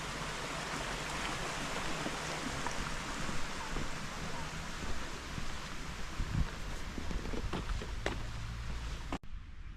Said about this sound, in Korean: 은근히 여기 50은 물소리가 많이 나겠는데?